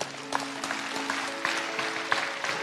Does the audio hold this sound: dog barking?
no